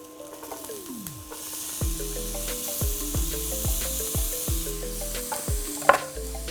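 Garlic and carrots dropped into a hot pan of chicken thighs, setting off a loud, close sizzle that swells and hangs on steadily, with clanks and scraping from stirring, no voices.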